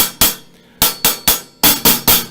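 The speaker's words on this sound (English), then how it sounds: "It's louder when you hit with the shaft on the edge, flat on the hi-hat." Sharp metallic hits ring out in an uneven rhythm, eight loud, close strikes of a drumstick shaft on a hi-hat edge, with bright, quickly decaying shimmer, heard alone without talk.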